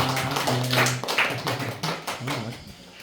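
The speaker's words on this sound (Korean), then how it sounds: "박수 한번 합시다" Congregation at a Korean youth and young-adult Sunday church service clapping together, a dense run of quick hand claps rising out of murmured talk and ringing in the hall, loud and close throughout.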